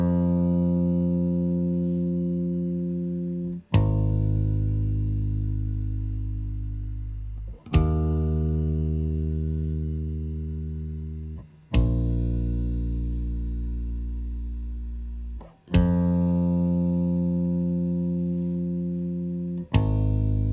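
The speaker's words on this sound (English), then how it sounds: "Okay, so we're just listening to drums and bass here." Drums and bass tracks from a prog metal mix play loud and alone, heavy sustained bass notes struck about every four seconds, each slowly decaying before the next hit.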